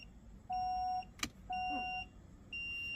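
A Honda CR-V's electronic handbrake engages with a short motor whir, while steady electronic tones beep on and off in a quiet car cabin, all faint and without talk.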